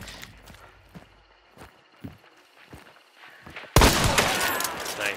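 Several footsteps tread softly across the ground in the Hunt: Showdown video game, then a single loud, close gunshot cracks out and rings with a long decaying tail.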